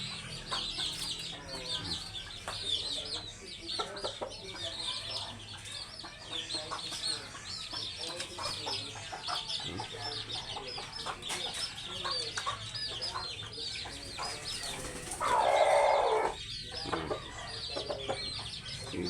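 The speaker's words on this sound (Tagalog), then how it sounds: "Hindi maglaban-laban itong mga inahin." Hens cluck and squawk continuously in a farmyard, a busy chorus of overlapping calls with one louder, harsher outburst near the end and a faint background voice.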